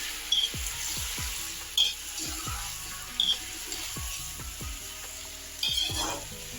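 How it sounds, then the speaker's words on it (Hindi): Potatoes and small tomato pieces fry in a pan for an aloo matar curry, giving a steady close sizzle broken by several sharp scraping strokes as the mixture is stirred. No voices. "अब हम इसमें टमाटर के छोटे छोटे टुकड़े काट कर डाल देंगे और इसे अच्छे से चला लेंगे।"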